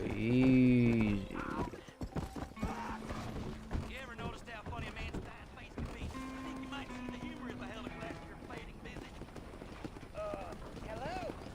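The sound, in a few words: horse hooves clip-clopping, from the video game Red Dead Redemption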